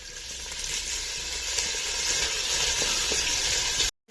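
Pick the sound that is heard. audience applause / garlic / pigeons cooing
garlic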